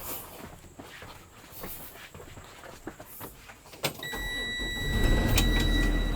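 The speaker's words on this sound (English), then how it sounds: "now let me crank up the bus" A school bus engine cranks with a sharp click, then catches and settles into a steady low rumble that grows louder and stays close, with thin whining tones riding above it and no talking.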